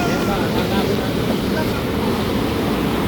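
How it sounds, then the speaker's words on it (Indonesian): Sea waves splash against a boat at sea, a loud continuous rushing wash mixed with wind noise, steady throughout the clip. "Nah, kita kena ombak sahabat semua."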